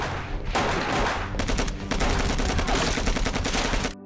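Heavy gunfire rings out during a raid on a Nazi base in a war film, with dense, rapid automatic bursts that are loud and sustained throughout.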